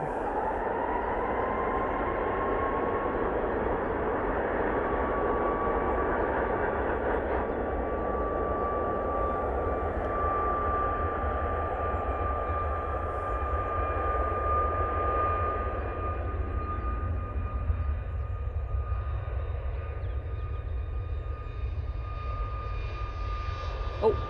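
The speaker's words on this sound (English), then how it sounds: "TUI now on the roll." A TUI airliner rolls for take-off at Manchester Airport in low visibility, its jet engines giving a sustained roar with a clear rising whine that gradually fades as it moves away, and a voice briefly speaks over it.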